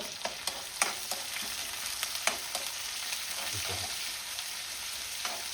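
Onion sautéing in a pan for corn chicken soup gives a steady, fairly quiet sizzle, broken by several sharp clicks and scrapes of stirring spread across the clip, with no talking.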